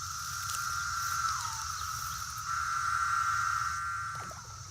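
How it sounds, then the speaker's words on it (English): Periodical cicadas drone in a forest after a 17-year absence, a steady high buzzing chorus that swells and dips slightly, with no talk. "After an absence of 17 years, the forest is now overrun by cicadas."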